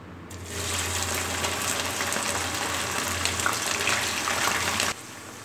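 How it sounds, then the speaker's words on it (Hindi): Okra hits hot oil in a pan for bhindi gosht and sets off a loud, continuous hissing sizzle that lasts several seconds and then stops abruptly. "अब मैं भिंडी फ्राई करने लगी हूँ। तेल हमारा गर्म हो गया, इसमें भिंडी डालेंगे।"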